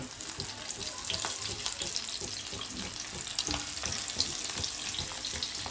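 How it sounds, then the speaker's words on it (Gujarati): Muthiya dumplings frying in hot oil or ghee, a steady close sizzle and crackle with scattered pops, running evenly throughout at a moderate level with no talking. "આપણે મુઠિયા તળવાનું કામ ચાલુ રહ્યું છે"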